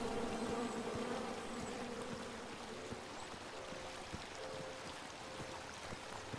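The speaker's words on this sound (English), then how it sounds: "Come at me, bees!" Insect buzzing of bees in the video game King's Quest, a steady low drone at moderate distance with no talk over it, faint bits of water or ambience underneath.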